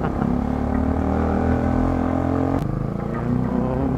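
A Kawasaki Rouser NS160Fi motorcycle rides at steady speed, its engine a continuous loud drone with a brief sharp bump partway through, and no talking.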